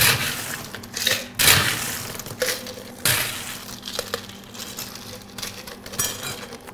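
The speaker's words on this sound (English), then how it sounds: "And fill your mixing tin 2/3 full of ice." Ice cubes tumble into a metal cocktail mixing tin, giving a series of clattering, crunching bursts of varying loudness, close by, with brief gaps between scoops.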